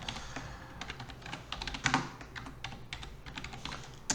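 Typing on a computer keyboard to enter a new folder name in Windows: a quiet, irregular run of soft key clicks with a few brief bursts, close and alone.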